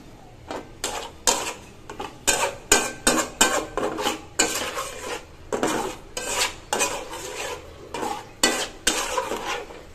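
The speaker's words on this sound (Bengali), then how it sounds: "এখন আমি মশলাগুলো একটু নেড়ে নিচ্ছি।" Spoon scraping and clattering against a pan while spices are stirred for a rui fish curry, a steady run of rhythmic strokes close by with a light sizzle underneath, no talking.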